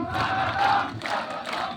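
A crowd at a block meeting roars and cheers in loud swelling bursts, the collective voices rising and falling across a short stretch.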